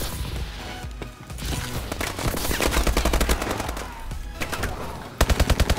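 Rapid automatic gunfire in the video game Call of Duty Advanced Warfare, loud bursts of machine-gun fire with overlapping shots and a final clear burst of evenly spaced rounds.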